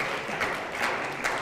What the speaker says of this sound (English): Let's give Cliff a great round of applause.